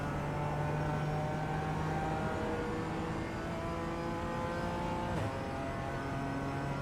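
A BMW M4 Evo GT4 race car engine in iRacing at Zandvoort drones steadily through the gears, its pitch climbing under throttle with a brief shift blip, heard from inside the car.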